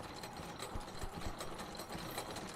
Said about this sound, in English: Sound of gears fill the room.